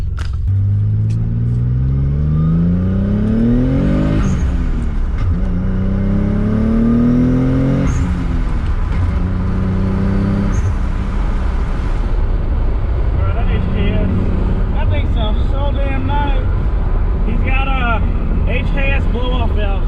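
A Nissan 350Z revs hard and drives, its engine rising and falling through several loud sweeping pulls with rumbling exhaust, blow-off valve hisses puffing between gear changes, close and continuous with no talk.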